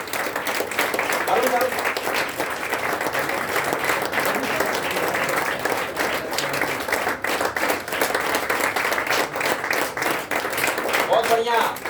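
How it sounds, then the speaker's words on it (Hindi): Audience applause and clapping at a business event in India, a dense sustained round of clapping with a voice speaking over it. "बहुत बढ़िया, तालियां बजती रहे।"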